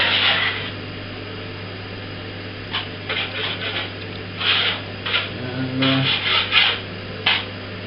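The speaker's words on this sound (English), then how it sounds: "You could go for days scraping this paint" Scraping paint off a water-damaged ceiling: rough, raspy strokes in short uneven bursts over a steady low hum, close and moderately loud, with no voices.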